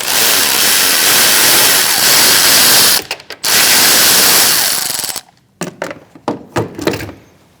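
An impact wrench spins the last strut bolt loose on a 2016–2019 Chevrolet Cruze. A loud continuous rattling burst is cut by a brief pause, then resumes, and ends in several short, sharp clanks and knocks.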